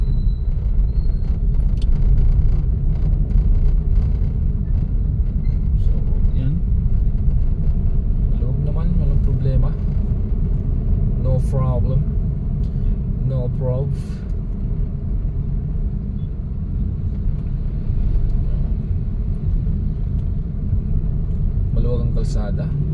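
Night traffic on a Montalban road during Typhoon Enteng, mostly motorcycles, gives a continuous low rumble of passing engines, with voices talking over it.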